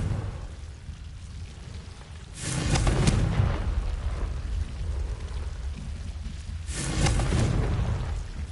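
A Confringo fire spell in the Hogwarts Legacy game blasts twice, each a broad whooshing burst that swells and fades over about a second, standing out over a steady rushing rain-like ambience, loud and close.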